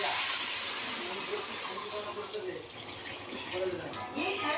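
Water poured into a pan of cooking mutton with masala gives a steady hissing, steaming sizzle that fades slightly, with a voice speaking softly underneath.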